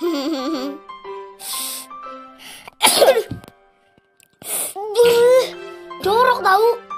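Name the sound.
child sneezing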